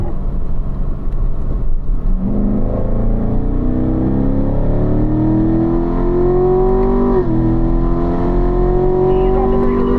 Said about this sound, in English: Here you go, Dan, all the way out on the throttle.